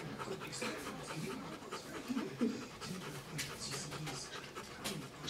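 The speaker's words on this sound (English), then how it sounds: "which is Zoe, a beautiful female Rottweiler" A female Rottweiler pants close by, with quick, rhythmic breathy huffs running steadily for several seconds at low volume, and a person's voice can be heard faintly in the background.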